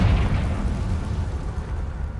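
A Confringo blasting spell explodes in Hogwarts Legacy, opening with a loud, close burst whose heavy low rumble fades across the following two seconds, with no talk.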